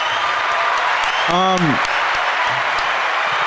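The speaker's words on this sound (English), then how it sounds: "Round of applause." Applause from a podcast audience rises as a steady, dense patter of clapping, with a brief voice exclamation in the middle, continuing throughout.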